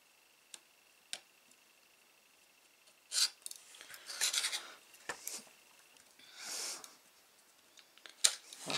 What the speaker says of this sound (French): Et je vais visser d'abord le ressort.